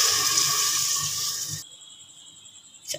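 A little water pours into a hot pan of cooking dal masala, first with a loud hissing splash, then settling into a softer bubbling simmer with a faint clink at the end.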